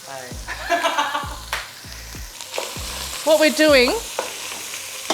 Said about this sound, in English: This is sizzling nicely.